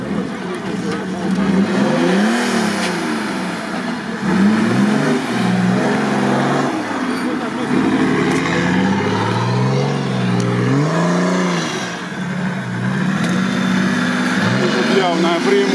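Suzuki Samurai off-road car engine revving and surging repeatedly as it drives an off-road course, moderately close, with people talking loudly over it.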